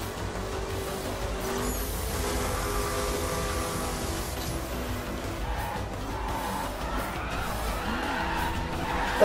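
A car in The Crew racing game brakes hard and skids, its tires squealing steadily over a loud, continuous engine roar that lasts for several seconds.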